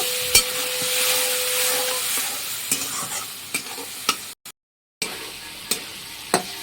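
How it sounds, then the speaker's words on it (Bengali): Washed masoor lentils fry in a pan with a continuous sizzle broken by sharp spoon-on-pan stirring knocks and a brief silent gap, with no voices. "ডালগুলো ভালো করে একটু ভেজে নিলাম"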